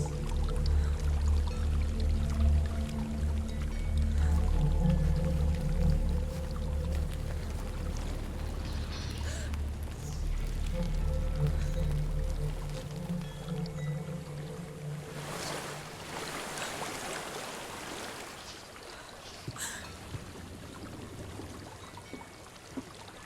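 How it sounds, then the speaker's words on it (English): Rushing water from a waterfall in the video game Hellblade: Senua's Sacrifice, a steady, full roar with a low rumble that fades into softer, wind-like washing and faint splashes, no talking. "There's a waterfall."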